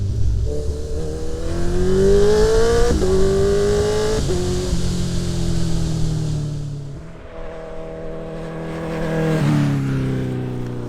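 A Honda CB1000R motorcycle engine revs hard and climbs in pitch, with quick drops at each gear change as it pulls through several gears, loud and close.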